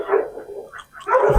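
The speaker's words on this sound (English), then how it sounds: "My dogs are going crazy in the backyard." Several dogs bark excitedly in a backyard, a burst of yips and barks fairly close, briefly dipping before a louder flurry at the end.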